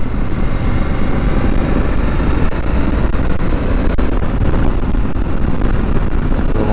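A Honda Africa Twin DCT motorcycle rides at Interlagos in fourth gear, producing a loud, continuous low engine rumble mixed with wind noise, steady throughout with no speech.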